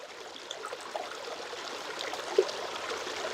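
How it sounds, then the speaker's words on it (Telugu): A waterfall-fed stream flows in a quiet, steady wash of trickling water, an even hiss with faint gurgles and no voices. "ఆ జలపాతం ఎలా పారుతోందో"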